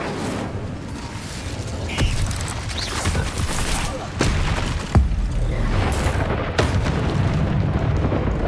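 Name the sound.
spell explosions (Confringo, Bombarda) in video game Hogwarts Legacy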